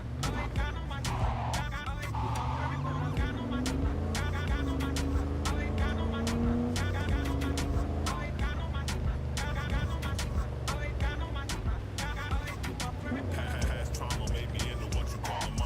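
A large car driving in Cyberpunk 2077 gives a steady engine drone with rising and falling pitch that runs throughout, along with game music and someone talking over it.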